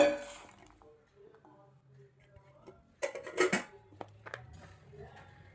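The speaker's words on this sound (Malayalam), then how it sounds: "ഒരു ചീനച്ചട്ടി എടുത്ത് അതിലേക്ക് മത്തങ്ങയും ഉള്ളിയും ഇട്ട് കൊടുക്കുക" Chopped pumpkin and shallots tipped into a cheenachatti wok-style pan for a Kerala curry: a quiet lead-in, then a burst of clattering, knocking pieces and utensil clinks against the metal pan, settling into softer scraping.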